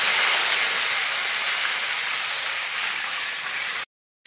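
Chopped raw onions hitting hot oil with panch phoron in a home kitchen pan, giving a loud, steady sizzling hiss that runs unbroken and close before cutting off abruptly near the end.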